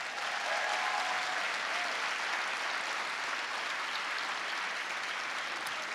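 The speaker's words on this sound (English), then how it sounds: "So give them a huge round of applause." An audience at a Commonwealth Club event with Sal Khan and Kimberly Bryant gives a round of applause, a full, even roar of clapping that holds steady throughout with no voices over it.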